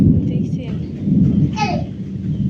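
Thunder from a storm rolls as a low, steady rumble close by, with a brief voice heard over it.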